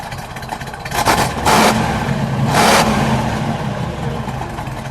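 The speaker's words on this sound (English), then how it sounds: "Let's give it a little bit of a rev." The engine of a 1954 Buick Skylark convertible idles, then revs twice in quick loud bursts before settling back to a steady idle.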